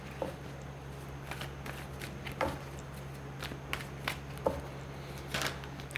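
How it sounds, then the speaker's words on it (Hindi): Tarot cards are shuffled by hand in soft, irregular flicks and riffles over a steady electrical hum, close and quiet with no talking. "let's pull some cards for guidance"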